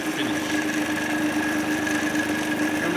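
A lathe spins steadily with a continuous high whine and hum as a tool shapes a curve on the workpiece, an even, unbroken machine drone close by.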